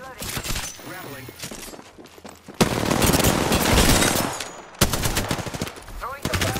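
Heavy machine gun fire in Apex Legends, sounding as loud, close, rapid bursts separated by short gaps, with faint game voice chatter and mechanical clicks between the volleys.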